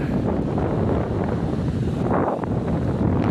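Strong gusts buffet the microphone outdoors on sandy ground at Madhupur, a continuous rough, loud rumbling roar with no voices.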